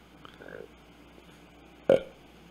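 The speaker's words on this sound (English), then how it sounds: "Ignore the burp." A single short, abrupt burp sounds near the end, close and fairly loud, after a few quiet moments with a faint bit of background voice.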